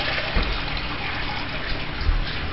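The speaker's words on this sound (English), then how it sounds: "I'm pouring water into the cup" Water poured from a cup into a pan, a steady close splashing and trickling stream lasting a couple of seconds.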